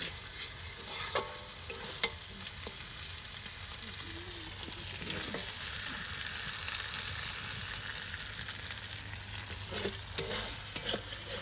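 Meat being stir-fried in oil as it browns, a continuous soft sizzle with occasional stirring clacks and scrapes, close but moderately quiet.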